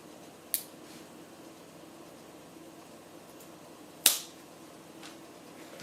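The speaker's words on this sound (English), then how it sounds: "get your scissor in there, cut it" Two crisp scissor snips cutting the cord ends of a five-row wrap bracelet, a short sharp cut followed a few seconds later by a louder one, close and otherwise quiet.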